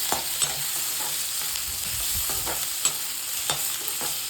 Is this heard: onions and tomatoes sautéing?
yes